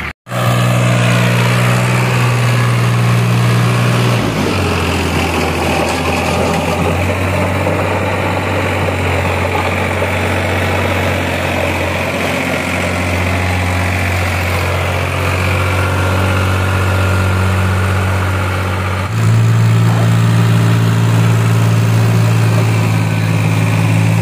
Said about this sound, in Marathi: ट्रॅक्टर आहे, त्याद्वारे हे सगळं जे माती आहे ते बारीक करण्याचा प्रयत्न केला जातो.